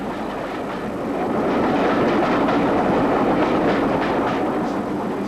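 A steam train on the Abergavenny to Merthyr line in 1958 rumbles along the tracks, a loud steady roar with faint rhythmic clatter that swells slightly as it nears.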